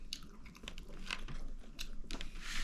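Kimchi fried rice with Spam, taken from the freezer, being eaten close up: repeated crunchy bites and chewing in an irregular rhythm, with no talking.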